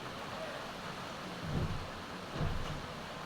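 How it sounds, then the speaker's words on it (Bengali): Steady rain falling outdoors under an overcast evening sky, a soft continuous hiss with two low rumbling swells partway through, fairly faint and without voices. "তারপর পুরো বৃষ্টি পড়ছে"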